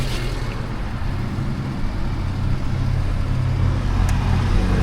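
A car engine at JDM Hawaii runs at a steady idle, a continuous low rumble with even pulsing, close and fairly loud, with no talk over it.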